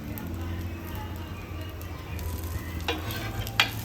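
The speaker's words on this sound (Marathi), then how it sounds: "आता डोशाच्या साईडने आपल्याला तेल सोडायचं" A dosa fries in oil on a pan, giving a steady close sizzle throughout with a few scraping clicks toward the end.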